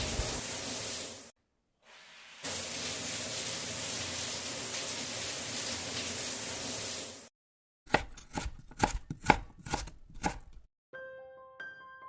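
Arrowroot (koova) is chopped by hand. A long stretch of steady hissing noise gives way to a quick run of crisp, evenly spaced knife strokes, followed by faint tonal sounds at the end.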